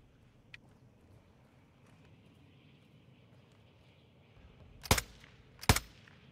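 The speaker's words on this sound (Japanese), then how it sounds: "なんか銃声しなかった今。" Gunfire in the PS5 video game DMZ: two sharp, fairly loud shots close together near the end, over a quiet rumbling background.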